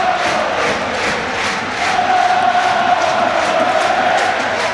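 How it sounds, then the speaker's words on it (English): A rugby league crowd of Warrington supporters roars continuously through a small, compact new stadium at a Challenge Cup semi-final against Huddersfield, a dense, loud, steady din that swells slightly midway with a sustained chanted tone. "the din here from this Warrington crowd, deafening, ringing around this small but neat, compact new stadium"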